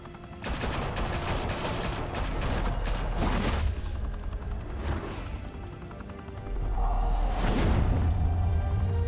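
Bursts of gunfire ring out in a Gotham confrontation in Batman: The Telltale Series, with loud, dense volleys and crashing impacts, a sharp burst midway and heavy low rumble toward the end, no talking.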